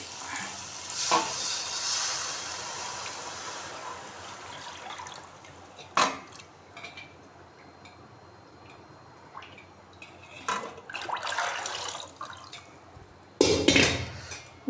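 Lassi poured into fried masala in a pan while making kadhi, with a steady sizzle, stirring, and bursts of bubbling liquid.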